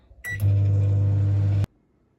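A microwave oven heating a frozen dark chocolate lava cake runs with a steady loud hum after a short click and start-up, then stops abruptly after about a second and a half; no talking.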